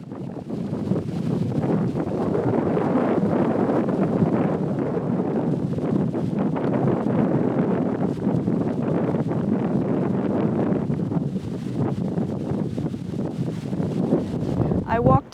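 Strong wind buffets the microphone on a hot, breezy island during a boat tour in Caramoan, Camarines Sur, a steady loud roaring rush lasting throughout with gusty fluctuations.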